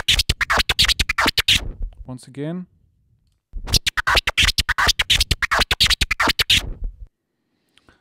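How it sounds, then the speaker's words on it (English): Turntable Stair scratch played at double speed, two fast runs of tightly chopped record-scratch stutters, loud and close, separated by a brief spoken phrase between them. "And when you play it twice as fast, it sounds like this here."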